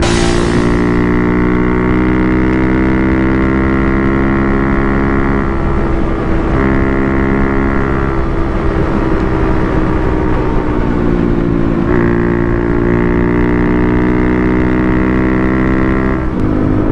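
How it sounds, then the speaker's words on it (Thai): A modified Honda Sonic motorcycle engine drones loudly and steadily while riding, with the pitch shifting between gears, close up and with no talk. "เดี๋ยวระหว่างขี่เดี๋ยวผมมาอธิบายรายละเอียดของเจ้าโซนิกดับแปลงพันธุกรรม ที่ผมเอามาขี่หน่อยแล้วกันว่า"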